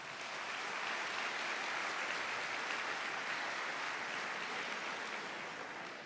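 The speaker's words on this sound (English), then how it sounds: "Let's give them a round of applause" Steady, dense applause from an audience at a high school academic awards ceremony, continuous and even for several seconds with no voices on top.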